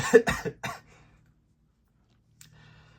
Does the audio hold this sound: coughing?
yes